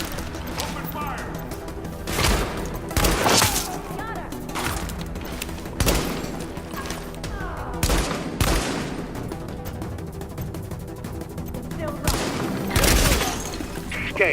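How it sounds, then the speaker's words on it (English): Heavy gunfire in a firefight from The Division, with bursts of automatic fire, sharp shots and crashing impacts recurring at intervals over a loud, busy battle din, while voices shout in between. "Open fire!"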